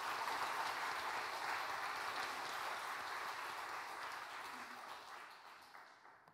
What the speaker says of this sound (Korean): 우리 선교사님 나오실 때 우리 박수로 우리 환영하도록 하겠습니다